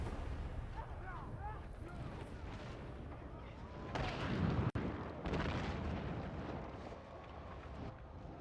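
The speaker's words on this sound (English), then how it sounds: "God, those bombs are ridiculous" Bombs blast over and over in a naval video game, with a big boom standing out midway through a busy stretch of rumbling explosions, gunfire-like bursts and game noise, while a voice talks at times underneath.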